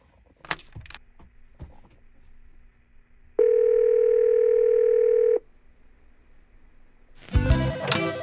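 A steady telephone dial tone sounds over speakerphone for about two seconds mid-clip, bracketed by faint clicks and handling knocks and followed by a louder burst of mixed noise.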